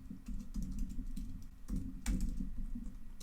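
Close, steady typing on a computer keyboard while entering code, irregular soft key clicks with a few louder strokes, no voices.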